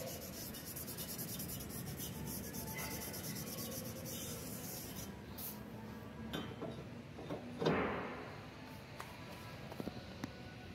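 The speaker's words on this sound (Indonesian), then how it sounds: "kita amplas permukaannya bagian luar maupun bagian belakang untuk menghilangkan kotoran-kotoran" Sandpaper rubs steadily back and forth across the surface of a removed brake disc from a Toyota Agya or Daihatsu Ayla, a quiet, close scratching with a single metallic clink partway through.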